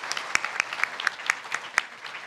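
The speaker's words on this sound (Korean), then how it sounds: "모든 연사들에게 다시 한번 큰 박수 부탁드리겠습니다." Sparse, separate claps from a small audience at the close of a forum session, about eight sharp hits spaced evenly and heard fairly faintly over a quiet room.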